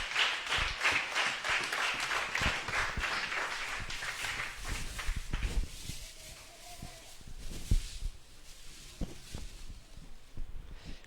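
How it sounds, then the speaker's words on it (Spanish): A church congregation claps together, steady applause filling the first half, then thinning into scattered claps and a few isolated hand strikes. "Démosle un aplauso a Jesucristo."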